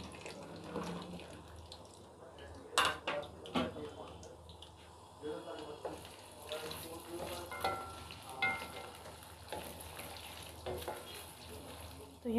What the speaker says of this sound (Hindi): तो अब सबसे पहले हम भिंडी फ्राई करेंगे।